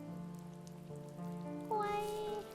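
Steady rain falls as a soft, constant patter under louder sustained melodic music with gliding tones, continuous throughout with no clear breaks.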